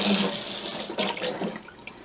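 Tap water runs onto an air fryer pan as it is rinsed, a splashing stream that shifts in tone as the pan moves, then tapers into scattered drips near the end.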